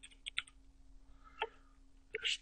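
Sparse computer keyboard and mouse clicks, a few sharp taps in a small cluster, then a single click and a final pair, close and fairly quiet over a steady low hum.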